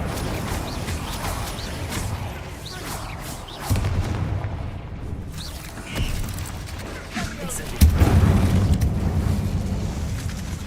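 Fiery spell blasts from Confringo and Incendio in the Hogwarts Legacy video game, heard as several heavy booming impacts over a rumbling low backdrop, the strongest landing near the end.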